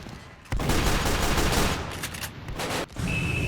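Sustained, loud, rapid gunfire rattles from the Roblox zeppelin war video game, a dense overlapping barrage with one brief break before the shooting resumes.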